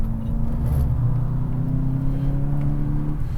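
A Volkswagen GLI car drives along, its engine a steady, loud low hum with road rumble heard from inside the cabin, holding an even tone throughout.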